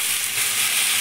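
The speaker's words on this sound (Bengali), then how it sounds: "দিয়ে এই যে আলুগুলো একটু ভালো করে ভেজে নেব।" Potatoes frying in hot oil with green chili and five-spice, a loud, continuous close sizzle with bright crackling and no voices.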